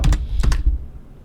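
Several quick keystrokes on a computer keyboard while entering a stock ticker, a close, crisp burst of clicks that then stops, with no voices.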